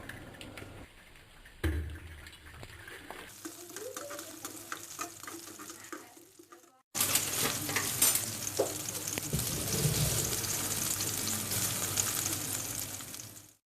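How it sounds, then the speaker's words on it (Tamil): Chopped onions sauté in a pan with drumstick leaves, a soft sizzle at first that turns into a loud, steady frying hiss once they hit the hot oil, with occasional spoon scrapes. "கட் செஞ்ச வெங்காயம் சேர்த்துட்டு வதக்கிடலாம்."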